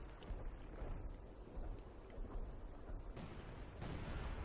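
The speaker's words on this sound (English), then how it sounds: "Well, the OKW will, with a artillery barrage." An artillery barrage in the strategy game Company of Heroes 2 sounds as a dense, low rumbling roll of distant blasts, continuous and muffled, with no voices heard.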